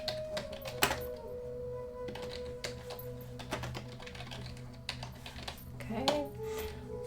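Keys clatter faintly on a computer keyboard in irregular taps and small clusters, with a low background hum underneath.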